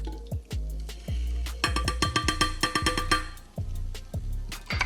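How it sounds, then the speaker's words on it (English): Beaten eggs pour into a buttered pan, giving soft wet drips and splatters that build into a brief flurry of sizzling pops before settling, close and fairly quiet. "Let's pour those eggs in."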